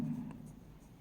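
A pen scratches across paper while accounting entries are written out by hand, a brief, soft, close-up scribbling stroke with no talk over it.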